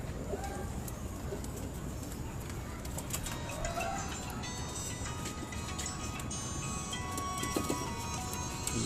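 Golden pigeons, the main breeding pair, coo softly in a loft amid a busy background of rustling, wing flutters and scattered sharp clicks, with faint chatter nearby.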